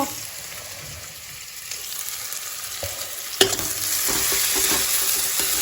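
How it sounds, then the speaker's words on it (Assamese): Maggi noodles fry in a pan with a continuous close sizzle, broken by the occasional scrape and clack of stirring, the sizzle getting fuller in the second half. "তাৰপিছত এইটো 2 মিনিটমান এনেকৈ ফ্ৰাই হৈ থাকক"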